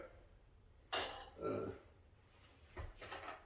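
Dishes and cutlery clink in a quiet kitchen as boiled peanuts are plated into a bowl, a few short, faint clatters and taps spaced out over a few seconds.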